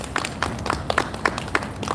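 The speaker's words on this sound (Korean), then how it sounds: "다시 한번 큰 박수 부탁드립니다" Audience applause at a bank workers' union rally, a crowd clapping in a steady patter of many hands, moderately loud and close, with no speech over it.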